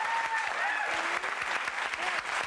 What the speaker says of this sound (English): Dean Shermay, let's have an applause.